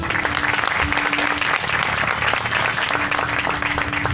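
Audience applause at a Thanksgiving church gathering, a steady, dense wash of many hands clapping that stays loud and even throughout with no break.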